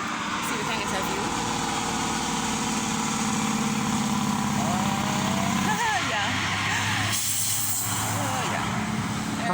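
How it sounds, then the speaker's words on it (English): A truck rumbles along a road in Jamaica with a steady, loud engine drone and shifting tones as it passes nearby, and a voice briefly speaks over it. "But you hear the truck?"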